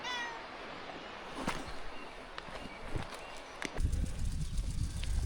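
A cat meows a few times at a distance in a quiet outdoor village setting in the Black Forest, with faint rustling and a louder low rumble near the end.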